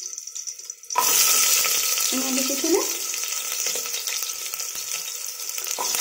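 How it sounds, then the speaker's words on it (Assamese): Onions frying in a pan for egg biryani, a loud steady sizzle that starts abruptly and holds throughout, with a brief stirring scrape partway and a short spoken remark over it. "পিয়াজখিনি অকণমান টাইম ভাজি ল'ব ব্ৰাউন কালাৰ হোৱালৈ"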